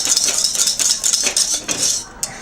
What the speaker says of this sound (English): we've been whisking this for about 2 minutes now